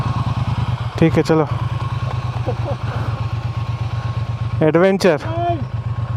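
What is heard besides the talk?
Triumph motorcycles riding off-road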